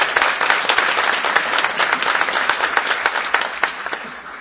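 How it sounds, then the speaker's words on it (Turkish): An audience at a formal gathering applauds, a dense burst of many hands clapping that holds steady throughout before easing slightly. It is fairly near and there is no speech over it. "Sayın Dakın'a yürekten alkışlarınızı ikrar ediyorum"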